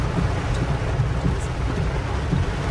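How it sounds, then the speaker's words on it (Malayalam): Heavy rain pours steadily, a dense continuous wash of noise with a strong low rumble, with no pauses or separate sounds standing out. "രക്ഷയില്ലാത്ത മഴ മഴയില്ലാത്ത മഴ"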